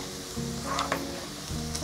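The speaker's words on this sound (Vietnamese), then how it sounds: "gà này chúng ta sẽ chiên trong vòng 4 phút" Chicken pieces frying in hot oil for a Vietnamese chicken salad, a continuous crackling sizzle at moderate level with no talking.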